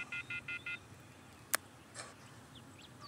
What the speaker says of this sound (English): Took out my phone and dialed the first number from my contacts list.